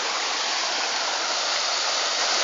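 A river flows beside a campsite, producing a steady, close, loud rushing hiss of water with no pauses.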